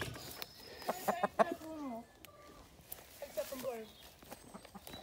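Hens clucking softly in a newly merged backyard flock, short clucks and calls, with a person talking nearby.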